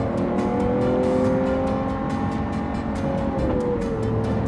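Lamborghini Aventador SV engine pulling hard under acceleration, its single-clutch gearbox banging through shifts with sharp regular cracks, loud and close, with no talk over it.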